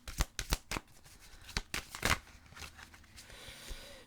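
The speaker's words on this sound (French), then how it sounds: "On va chercher la dernière carte." A tarot card is drawn from the deck: a few crisp, close snaps and papery rustles come in quick bursts, quiet and unaccompanied by speech.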